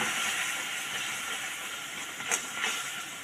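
Water poured into a pan of frying spices for a potato-filled papad dish sets off a steady, loud hiss with brief sputters, close by and without talk.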